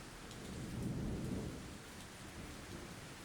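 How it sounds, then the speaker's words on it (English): Monsoon rain pours steadily over Bangkok, a soft continuous wash of drops with low thunder rumbling faintly in the distance, swelling briefly before settling back to an even hiss. "the monsoon rains change the city's appearance"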